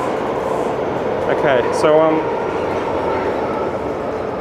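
A train runs steadily, heard from inside the carriage as a continuous rumbling drone with brief squeals and rattles partway through, while a person speaks a few words over it.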